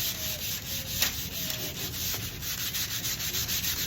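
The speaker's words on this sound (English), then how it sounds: "I'm going to sand these three panels lightly" Light hand sanding of old 1960s stained wood panels, a steady continuous rubbing and scratching that runs throughout, close and fairly loud with no voices.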